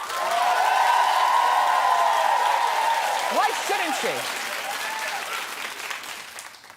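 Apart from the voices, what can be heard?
TV studio audience applause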